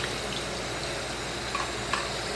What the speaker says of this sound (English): Get the straw, wash it over, rinse it off.